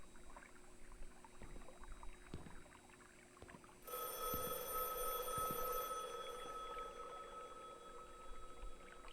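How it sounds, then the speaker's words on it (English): A rotary telephone bell in a Backrooms horror video game starts ringing partway through, a continuous metallic trill that carries on steadily over faint ambient room noise. "That sounds like a rotary phone."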